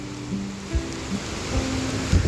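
Soft, continuous rushing of a forest stream in the monsoon season, fairly faint and steady, with a few brief low knocks and rustles near the listener.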